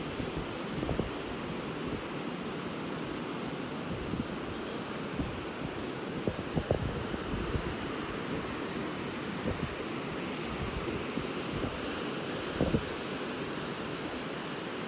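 Continuous roar of surf and wind along a beach in North Naples, Florida, broad and steady, with occasional louder gusts buffeting the microphone.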